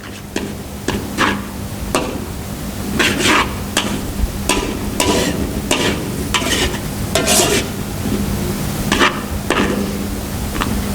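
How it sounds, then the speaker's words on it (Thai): Pad Thai noodles stir-fried with sauce and stock in a pan make a loud, steady sizzle, broken by repeated scraping and clacking strokes of the spatula against the pan in an irregular rhythm. "ผัดไปให้ให้แห้งนะคะ แช่ให้น้ำที่เราใส่น้ำซอสกับน้ำสต๊อกที่เราใส่ไปให้แห้งนะคะ"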